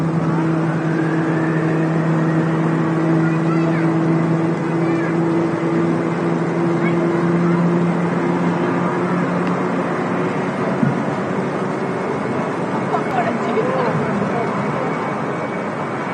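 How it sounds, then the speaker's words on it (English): Jet engines of a Boeing 747 spool up at Manchester Airport, a steady distant roar with slowly rising whine tones that stays even for the whole stretch, with faint voices nearby. "that was definitely the 747 starting engines"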